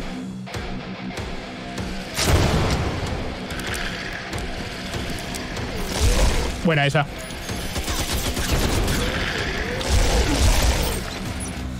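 Video game explosions and gunfire in Beyond Extinct, heavy booming blasts and crackling bursts at irregular intervals with a brief whistling sound, while a player speaks briefly over the action.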